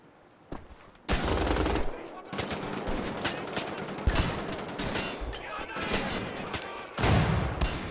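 Sustained automatic gunfire from the video game Wolfenstein: The Old Blood, dense bursts of shots after a brief quiet start, loud and close with near-constant firing to the end.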